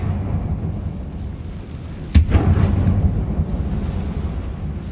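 A Confringo fire spell blasts inside an abandoned mine tomb in Hogwarts Legacy, one sharp loud burst cutting through a low rumbling ambience, followed by a rolling crackle that trails off over several seconds.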